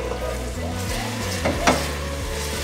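Whipped cream is stirred slowly into chocolate brownie batter in a bowl, a soft, continuous scraping with a couple of light clinks over a steady, tonal background.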